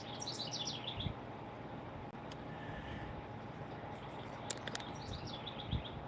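A small pet bird chirps in short bright bursts, fairly faint, over a constant hiss of outdoor background noise.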